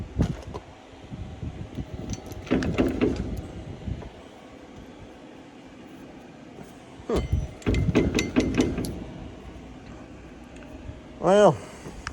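A socket wrench ratchets on bolts of a Gleaner R72 combine final drive, with quick clicking bursts in two clusters amid a noisy shop, plus a short squeaky whine near the end.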